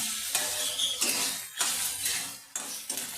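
Onions fry in a pan while being stirred, a steady close sizzle broken by repeated scraping strokes of the spoon at a brisk, uneven rhythm.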